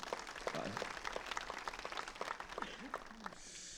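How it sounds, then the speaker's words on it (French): Faint audience applause at a French municipal election list presentation evening, a thin patter of clapping hands with some voices murmuring underneath, fading at the end. "Je vous demande de les applaudir"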